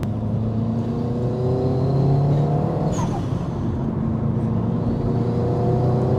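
A 465 bhp Subaru Impreza STI hatchback engine runs steadily at high revs up to 5,500 RPM, a loud continuous droning hum from inside the car with no talking.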